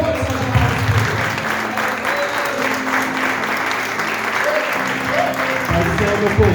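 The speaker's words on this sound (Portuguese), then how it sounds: "Vamos receber o servo do Senhor com uma força de palmas." A church congregation applauds during a Sunday morning service, steady dense clapping filling the hall throughout, with some voices mixed in under it.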